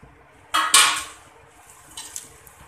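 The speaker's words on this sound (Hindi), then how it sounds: "अब इसमें मैं 4 पैकेट नूडल डालूंगी" Broken Maggi noodles, four packets' worth, tipped into a pot of water: a brief rattling clatter of dry pieces hitting the pot, then softer scattered clinks and splashes, close by with no talk.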